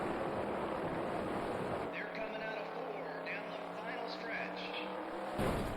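Sprint car engine roaring in the World of Outlaws: Sprint Cars 2002 racing game, a steady loud drone that shifts in pitch as the throttle comes back on, with a voice talking over part of it.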